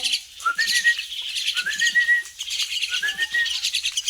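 A flock of small birds chirps and tweets busily close by as they gather to be fed, with bright overlapping calls and rising whistled notes in steady bursts and no talking.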